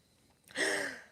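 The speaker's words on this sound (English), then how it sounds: "I'm gonna sneeze." A single close, loud sneeze with a sharp sucked-in breath followed by a bright burst of air, standing alone in a quiet room.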